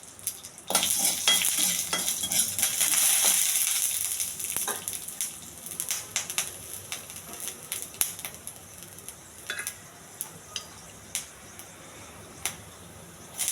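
Whole black gram dal with husk frying in a little oil on a pan, a steady loud sizzle at first that settles into quieter frying crackle with stirring scrapes and clinks.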